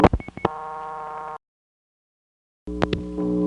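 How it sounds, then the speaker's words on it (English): Telephone line recording of a Bell #355 step switch on a long cable pair in Batesburg SC: clicks and rising tonal hum, then silence, then a steady tone with more clicks. "That right there, where the hum got louder before the dial tone"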